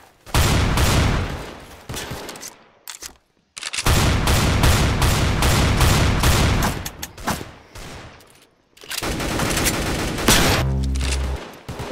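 An automatic pistol in the video game Counter Blox fires in long, rapid, loud bursts, with several sustained volleys separated by short pauses and no talking.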